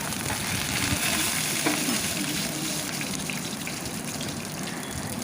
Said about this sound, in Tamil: இது நல்லா ஃப்ரை ஆகணும்.